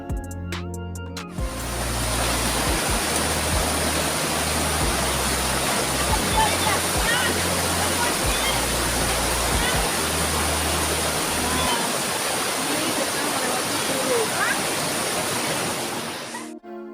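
A mountain river on a trail with several waterfalls roars continuously at close range, a loud steady rush of water filling the whole stretch, with a low rhythmic thumping underneath during the first part.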